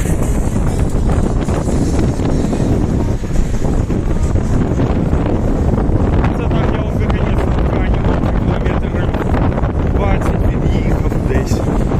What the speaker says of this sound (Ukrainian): Просто здуває, я стою, не їду, а мене здуває.